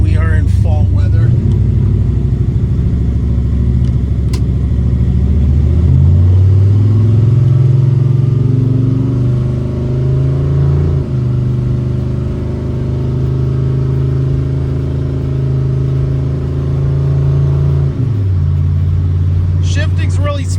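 A 1960 Chevrolet El Camino cruising at about 65 mph, its engine holding a steady low drone with road and wind noise, brief shifts in pitch partway through, while someone talks over it inside the cab.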